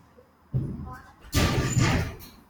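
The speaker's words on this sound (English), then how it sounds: "I'll shut the door." A classroom door is shut, a thud followed by a louder slam and rattle, with people talking faintly nearby.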